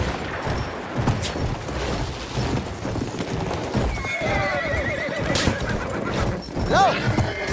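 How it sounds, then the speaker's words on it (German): A horse gallops in the WWI shooter Battlefield 1, steady clip-clop hoofbeats with a whinny rising near the end, set against distant battle noise while someone talks. "Schöner Galopp!"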